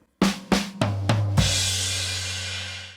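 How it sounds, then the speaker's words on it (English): A drum fill on a kit moves from snare hits down to the floor tom, five sharp close strokes ending in a long ringing crash cymbal wash. "You could go snare to floor."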